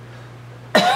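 A single sharp cough bursts out near the end after near silence, close and loud, with a steady low hum underneath.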